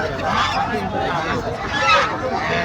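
Chinese ducks honking at a wholesale poultry market, with nasal honks over the steady babble of a crowd and voices nearby.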